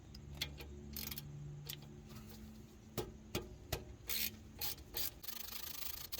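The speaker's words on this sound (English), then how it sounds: "Let's get those IWE bolts removed." Faint ratcheting and metallic clicks from a ratchet loosening 8mm IWE bolts on a Ford F150 front axle, coming in short separate bursts with quiet gaps between them.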